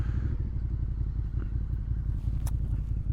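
A 2017 Suzuki SV650 motorcycle rides along with a steady, close engine rumble and pulsing low throb, joined by a brief clatter near the end.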